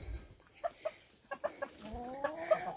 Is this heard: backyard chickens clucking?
yes